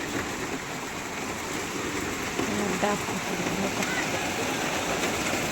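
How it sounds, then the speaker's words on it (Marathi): Heavy cloudburst rain in Pune pours down steadily in a dense, continuous hiss, with faint voices briefly audible underneath. "आज एवढा पाऊस आहे ना पुण्याला"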